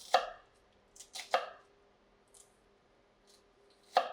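A knife chops food on a cutting board in a kitchen, giving a few sharp, close knocks spaced irregularly with quiet gaps between, and no talking.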